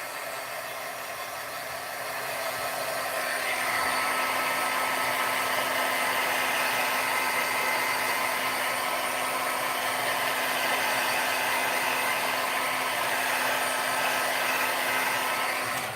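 A heat tool blows a constant, loud whooshing hum for the whole stretch, drying splatters of embossing powder on a handmade light-up card, with no talking over it.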